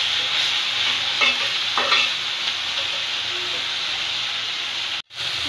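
Spice paste fries in oil for a fish curry, giving a loud, continuous close sizzle with two brief scraping stirs, then a sudden momentary cutoff near the end; no speech.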